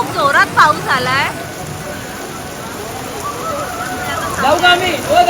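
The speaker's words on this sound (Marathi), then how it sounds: "इथे आम्ही जवळ आहोत इतके आणि खूप जोरात पाऊस आलाय" Heavy monsoon rain pours down steadily at an outdoor temple visit for a Shani Dev pilgrimage, a dense constant hiss, with voices speaking at the start and again near the end.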